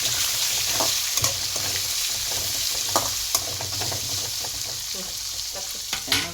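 Lemon rice being mixed in hot oil in a pan: a constant close sizzle with irregular scraping and tapping of a spoon against the pan, fairly loud, no one speaking.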